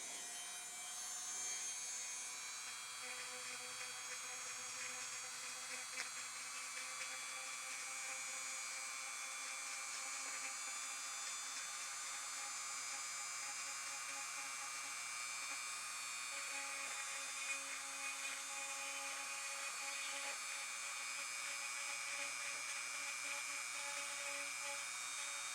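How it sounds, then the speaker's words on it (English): A rotary tool grinds shallow holes into cork insulation for a Prusa 3D printer heatbed, a steady high-pitched whine running close and continuous for the whole stretch, with slight shifts as the bit bites into the cork. "So we'll just grind these out a little bit."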